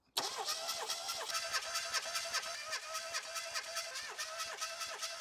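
Classic Mini engine with automatic gearbox cranking over on the starter during a compression test, a fast steady rhythmic churning of repeated compression pulses, loud and close, without firing, running continuously for about five seconds.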